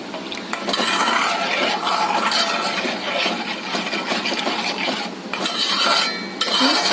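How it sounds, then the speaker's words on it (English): Milk being stirred in a pot over a low to medium flame, a continuous busy scraping and sloshing with faint clinks of a spoon against metal, fairly close and steady throughout with no talk. "Stirring it"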